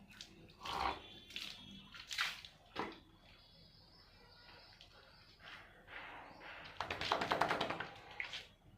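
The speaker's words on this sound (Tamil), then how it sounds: "குளிச்சு ரொம்ப நாள் ஆச்சுன்னா அதான் குளிக்கிறேன்" Water from a tap splashes in short, faint bursts during a bath, with quiet pauses of trickling and handling noises in between.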